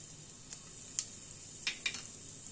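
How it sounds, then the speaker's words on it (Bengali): Cumin seeds and asafoetida hit hot oil, a faint steady sizzle with a few brief crackles and pops scattered through it. "এবার ওই তেলে জিরে আর হিং দিয়ে দিলাম ফোড়ন"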